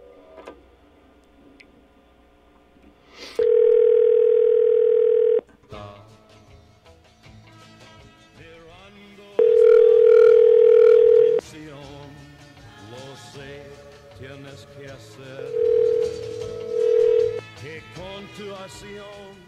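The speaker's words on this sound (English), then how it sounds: "I'm going to call him on his cell phone first." A cell phone call rings out as steady electronic ring tones in three separate bursts, with quiet pauses and faint clicking between them.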